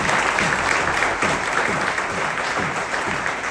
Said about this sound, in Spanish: Un aplauso, no, para mi esposa, bueno, para mi suegro también.